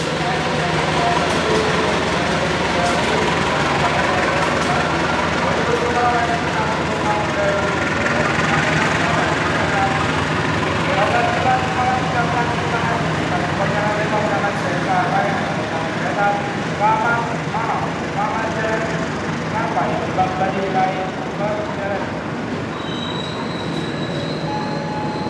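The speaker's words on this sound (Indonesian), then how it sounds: "kereta api Brawijaya sudah meninggalkan stasiun Semarang Tawang Bang Jateng dan sekarang keretanya sudah bergerak menuju stasiun Brumbung" KA Brawijaya passenger train departing Semarang Tawang station, heard from on board: loud continuous rolling rumble of the wheels with clattering and squealing over the rails, steady for the whole stretch.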